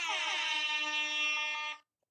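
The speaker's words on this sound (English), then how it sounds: "we don't want some dinky little air horn" A single sustained air horn blast, loud, harsh and close, holding steady for nearly two seconds before cutting off abruptly into silence.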